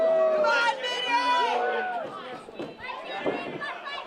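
A crowd of kids cheers and shouts at a wrestling match, a dense, lively babble of excited voices with high yells rising over the top, steady and close throughout.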